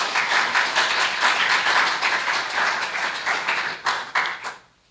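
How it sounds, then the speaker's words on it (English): An audience at a school science fair awards ceremony breaks into dense, lively applause after a musical performance, sustained for several seconds before tapering off into quiet. "let us give Mr. Tyree Peters a round of applause"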